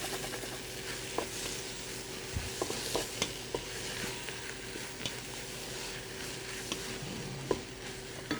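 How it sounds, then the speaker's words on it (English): Yellow onions caramelizing in a pan, with a low, steady sizzle and scattered soft clicks and scrapes of stirring, fairly quiet and close, no talking. "we're going to keep caramelizing our onions until they become nice and brown."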